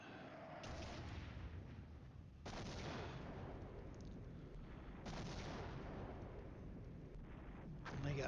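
Heavy 155 mm artillery barrage in the wargame Flashpoint Campaigns, with sustained loud rumbling impacts and fresh blasts breaking in at regular intervals over a continuous roar, and talk heard beneath.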